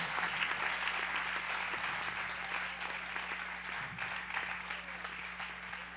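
A church congregation applauds at a worship service, steady dense clapping filling the room for the whole stretch at a fairly even level, with a low sustained hum beneath and no speech.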